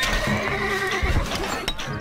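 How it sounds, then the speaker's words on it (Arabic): A horse in the strategy game Stronghold Crusader whinnies loudly in one drawn-out neigh, with faint game sounds and hoof clatter behind it. "الحصان سريع."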